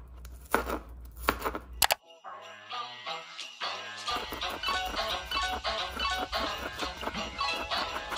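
A knife chopping ingredients for brown stew chicken on a cutting board, a quick run of close, crisp cuts that starts after a short pause, with soft kitchen noise and no talking.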